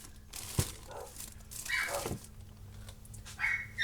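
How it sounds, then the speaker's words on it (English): A few sharp dog barks and yips, moderately close, separated by short pauses, with some faint background noise. "She just lays in bed and barks."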